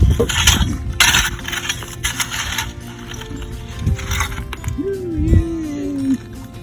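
Clam dropped into a basket during dry digging on a beach, a single hard knock and rattle among shuffling handling noise, close and fairly loud, with brief talking earlier in the clip.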